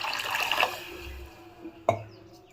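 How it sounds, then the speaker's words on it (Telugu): Water poured into a hot pan for upma makes a splashing, hissing rush that fades away, then one sharp clank of a vessel near the end, close by with no voices. "ఇప్పుడు ఇందులోకి వాటర్ వేసుకుందాము"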